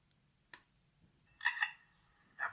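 A bird imitating a camera shutter: a single sharp click, then a quick double mechanical click-whir, then another click, crisp against a quiet background.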